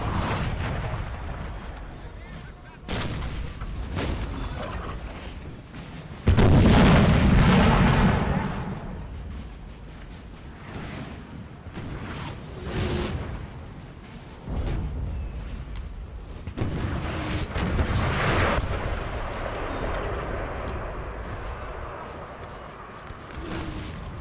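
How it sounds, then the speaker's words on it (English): Cannon artillery booms across a Napoleonic battlefield in Napoleon Total War, heavy dull blasts at irregular intervals over a continuous rumble of battle noise, with a loud close burst early on. "Man, the artillery, though, is quite brutal."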